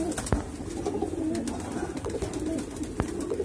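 White pigeons coo in a steady, overlapping low murmur from a pigeon loft, with a couple of sharp clicks or wing taps, close and moderately loud without speech.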